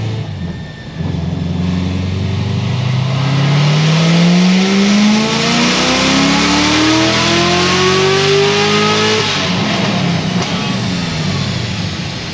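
Corvette C7 Z06 V8 engine revving hard at full throttle on a dyno, a loud continuous roar rising steadily in pitch for several seconds before dropping off, close and alone with no talk.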